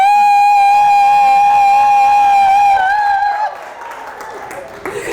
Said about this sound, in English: African style of round of applause